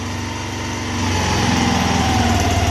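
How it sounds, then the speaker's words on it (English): The single-cylinder engine of a rebuilt 2001 Kawasaki Bayou 220 ATV idles loud and close with a steady buzzing chug, rising slightly in pitch and volume about a second in, with no talk. "I think I need to adjust the idle on it."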